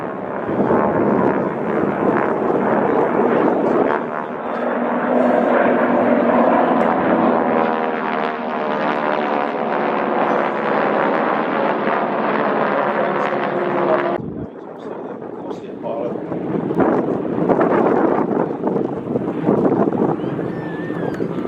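Propeller-driven aerobatic aircraft flying manoeuvres at an airshow, a loud sustained engine drone with shifting pitch across the whole stretch, briefly dropping out then resuming, with wind buffeting the microphone.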